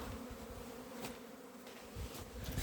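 A young honeybee colony pours out of its hive on an orientation flight, a dense, continuous buzzing swarm close by that swells and fades slightly as bees pass near.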